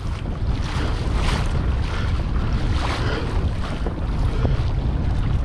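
Choppy marsh water slapping against a kayak as it cuts through rough water, a continuous loud wash of splashing and rumbling wind buffeting the microphone, close and without speech.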